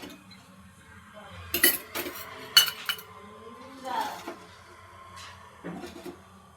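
Metal utensils clink and scrape a few times as crisp, oven-baked dal batti is moved into a small bowl in a home kitchen, with quiet pauses between the clinks.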